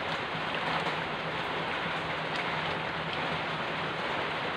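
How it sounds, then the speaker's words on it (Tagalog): Steady rain falls outside a home kitchen as a dense, even hiss that holds a constant level from start to finish, with no voices or other distinct sounds heard. "Mga may narinig kayong maingay, ulan po yun."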